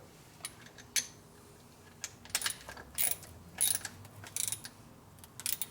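A ratchet or wrench clicks in short bursts while bolts are tightened on the fork leg assembly of a 1950 Harley-Davidson panhead, with metallic tool clinks over a low shop hum and no talking.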